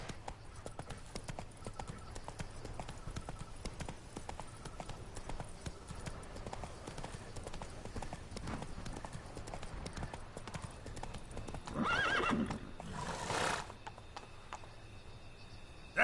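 Roach the horse galloping in The Witcher 3, a steady, fast patter of hooves on ground carrying through the whole stretch, with a brief whoosh of wind or rustle near the end.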